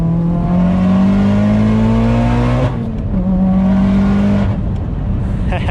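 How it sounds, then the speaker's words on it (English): A Mitsubishi Evo engine pulls hard through third gear, then the revs drop briefly during the shift to fourth before the steady drone climbs again. The car is heard from inside, loud and continuous, with no talking. "Let's do that third to fourth shift I always miss."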